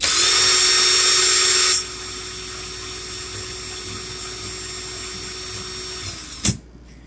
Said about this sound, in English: I put my drill in reverse.